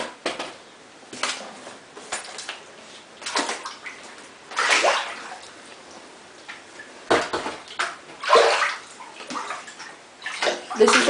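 Floodwater sloshing and splashing in a completely flooded house basement, with uneven surges and bursts of movement close by, some louder than others, over about eleven seconds; a person talks at times.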